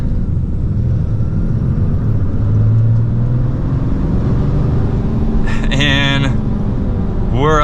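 A Ram 3500 Limited MegaCab pickup truck accelerates on the road, its heavy engine giving a loud, steady low rumble heard from inside the cab, with a brief tonal chime near the end.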